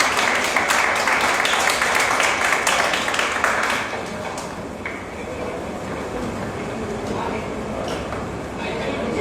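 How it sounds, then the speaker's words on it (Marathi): An audience at a cycling campaign ceremony applauds loudly and steadily at first, then the clapping thins to a lower, continuous patter. "सर्वांसाठी आपण जोरदार टाळ्या वाजवूया"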